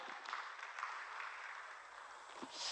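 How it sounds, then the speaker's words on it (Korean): A church congregation claps at a Sunday worship service, a faint, steady patter of applause heard from some distance that carries on throughout, with no talking. "박수 좀 치시고요."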